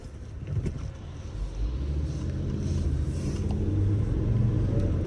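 A Volkswagen Crafter van with a 2.7 OM647 engine and a 651 gearbox on a test drive gives a steady low interior rumble that slowly swells as it gathers speed, with no talk.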